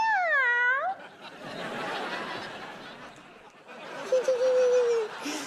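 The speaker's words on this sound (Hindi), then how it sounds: "अब मेरी बिल्ली बुलबुल इन चूहों को खा जाएगी।" A cartoon cat gives one short, clear meow that slides downward, followed by busy laughter-like noise and a later thin tonal whine.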